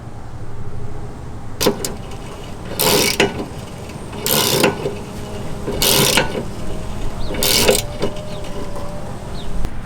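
Ratchet turning an 18mm deep well socket on an extension during rear camber work on a Ford Escape, heard as a few separate bursts of clicking spaced a couple of seconds apart over a steady low background hum.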